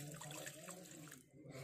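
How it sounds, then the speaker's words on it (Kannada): Milk poured from a container into a pot heating on the stove for a home cough remedy, a steady close splashing gurgle running almost without pause, dipping briefly near the end. "ಸೊ ಈಗ ನಾವು ಇಟ್ಕೊಂಡಿರೋಂಥ ಹಾಲನ್ನ ಹಾಕ್ತಾ ಇದ್ದೀನಿ"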